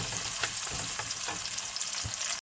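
Onions frying in a pan until light golden for a dhaba-style moong dal make a loud, continuous close sizzle with soft stirring scrapes, cut off abruptly at the end.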